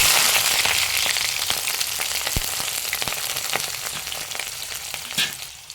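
Mustard seeds, chopped onions and green chilies fry in hot oil, a loud, dense crackling sizzle with scattered pops that gradually eases off, with no voices.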